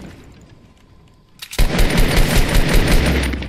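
Sudden burst of rapid automatic gunfire in the video game Fortnite, loud and close, erupting after a quiet start and sustaining to the end.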